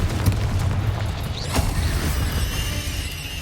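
The Bombarda blasting spell goes off in Hogwarts Legacy as a muffled boom with creaking, mechanical rumble around it, followed by a sharp crack and a fading, gritty tail.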